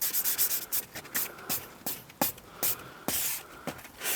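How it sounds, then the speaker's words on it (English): A steering wheel being hand-sanded during a black restoration, giving repeated scratchy rubbing strokes in an irregular rhythm, close and fairly quiet, with no talking. "So just going to start sanding it as well now,"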